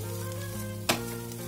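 Chicken roll filling with spices sizzling in a frying pan, a steady frying hiss with one brief scrape as it is mixed.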